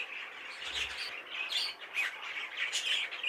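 Caged breeding budgerigars, including a yellow face opaline cinnamon sky blue pair, chirp and chatter continuously in a busy, moderately close chorus of overlapping tweets and short squawks with no speech.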